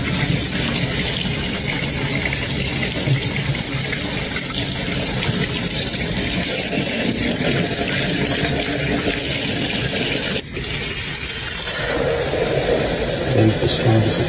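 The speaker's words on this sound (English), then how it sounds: "Robbie shows how soapy the coffee maker becomes when water is added." Water pours steadily into a coffee maker, a loud continuous rushing gush that runs unbroken for most of the stretch before briefly cutting out and resuming.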